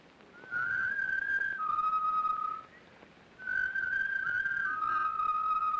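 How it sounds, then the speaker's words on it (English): A person whistles a secret fraternity signal, two clear two-note phrases with a slight downward step, loud and alone against a quiet room. "The whistle is given like this."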